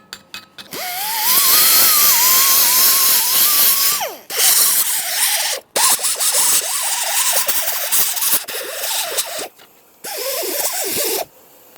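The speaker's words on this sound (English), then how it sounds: "Just go ahead and chisel it out of there." Rust being chiseled and scraped out of a steering knuckle on a 2006-2012 Ford Fusion during brake dust shield replacement, with loud close grinding and screeching bursts, a long squealing stretch, then shorter rasping passes broken by brief pauses.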